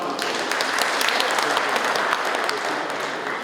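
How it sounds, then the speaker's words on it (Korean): Audience applause welcoming the Gyeongju mayor to the stage at an APEC summit results report event, with a dense, even burst of many hands clapping throughout. "큰 박수로 모시겠습니다."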